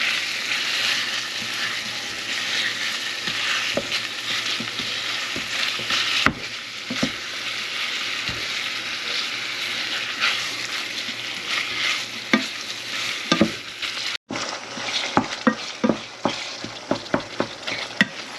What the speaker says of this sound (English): the only thing you have to do is brown your ground beef and then add the chili paste